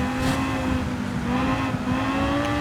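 A Tomahawk race car in Gran Turismo 7 drives with a steady, loud, high-pitched engine drone that holds its pitch throughout, with no talk.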